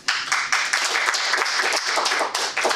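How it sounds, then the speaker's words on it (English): Applause at a Toastmasters meeting for Steve, winner of table topics, a small room of people clapping in uneven bursts, close and fairly loud, with no speech over it. "Applause for Steve."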